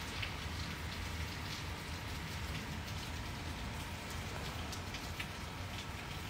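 Steady rain pours down continuously, a dense wash of hiss and patter with no voices, close and evenly loud throughout.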